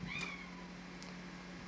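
A cat gives a single short meow close by indoors, with only a faint steady hum continuing afterward.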